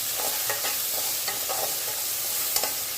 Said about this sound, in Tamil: இப்போது வெங்காயம், தக்காளி, கருவேப்பிலை சேர்த்து வெங்காயம் வதக்கிக்கலாம்.